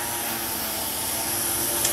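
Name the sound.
lawn trimmer running outside open window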